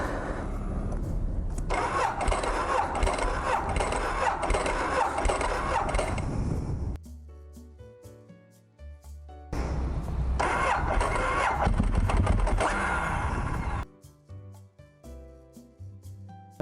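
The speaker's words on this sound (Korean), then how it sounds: "시동이 안 걸려가지고 이거 타고 나갑니다" A motorcycle engine with a nearly dead battery is cranked in two long, loud, labored attempts of several seconds each, a quieter lull between them, and it never catches.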